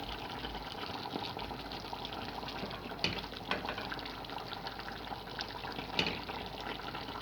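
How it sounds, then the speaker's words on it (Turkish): Water pours into a pot of cabbage stew with cornmeal, a faint continuous trickling and gurgling with a few soft clinks, no talking. "Şimdi suyunu döküyorum."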